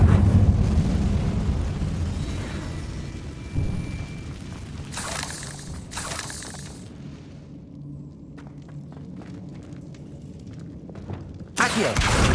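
A Confringo fire spell is cast in Hogwarts Legacy, giving a loud rumbling burst that trails off into a long low roar. Sharp crackles follow, with another hit near the end.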